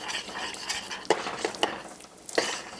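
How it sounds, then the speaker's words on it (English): A utensil stirs darkening caramel in a pan for a chocolate salted caramel tart, scraping swirls with a few sharp clinks against the pan over a faint sizzle, no talking. "And stir it. Continue to stir it."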